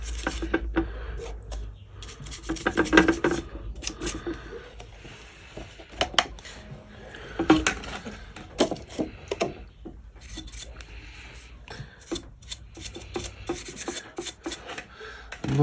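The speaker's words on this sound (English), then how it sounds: "I want to just try and clean that up a bit" Cloth rubbing over the cracked stator of a 250cc quad, wiped clean with petrol; irregular close scrubbing and rasping strokes with occasional knocks and clinks against metal, no talking.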